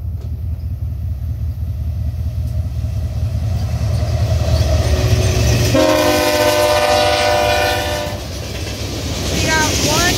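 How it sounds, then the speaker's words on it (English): A BNSF freight train hauled by GE ES44AC and ES44C4 locomotives rumbles past close by, loud and continuous, as a multi-tone horn blares for a few seconds before the rolling noise carries on. "So yeah, BNSF train."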